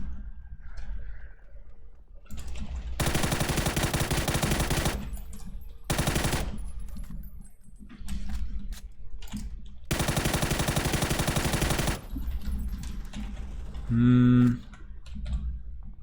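M416 assault rifle in PUBG firing sustained full-auto bursts, two long loud rattling strings and a shorter one separated by quiet gaps with faint clicks, then a brief tonal sound near the end.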